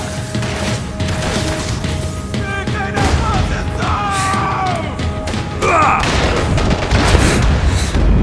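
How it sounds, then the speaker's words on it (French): Explosions from grenades in the video game Max Payne 3: heavy booms and crashing impacts over dense game noise and mechanical clatter, building louder near the end, with a voice speaking over the action. "il y a des grenades maintenant"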